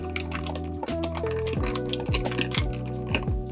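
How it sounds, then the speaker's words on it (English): A Disaronno and root beer cocktail is stirred in a glass, giving soft clinks and liquid swirling at close range over faint tonal background music. "And we'll use a little stir here to stir on up."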